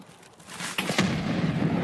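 A grenade detonates in Escape From Tarkov with a sudden sharp crack, followed by a rumbling roar that lingers to the end.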